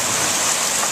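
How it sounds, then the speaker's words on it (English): Heavy storm rain, driven by strong wind, pours down in a dense, continuous hiss, loud and close, with no voices over it. "now the rain is coming down harder and stronger, being blown everywhere by the wind"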